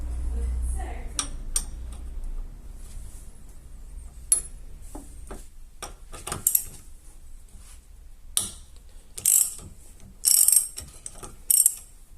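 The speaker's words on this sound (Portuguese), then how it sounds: "a gente tem que soltar esse parafuso aqui" A bolt on a car's steering assembly is loosened with a ratchet wrench, giving bursts of sharp clicking pawl ticks that are close and fairly loud, with brief pauses between turns and a low rumble at the start.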